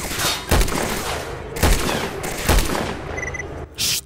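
SVD sniper rifle shots in the video game S.T.A.L.K.E.R., four loud booming reports about a second apart, each with a long echoing tail, with a brief electronic tone between the last two.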